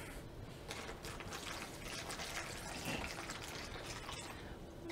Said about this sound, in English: we're going to take our water to represent our water, okay, and we are going to pour it in to our sea ice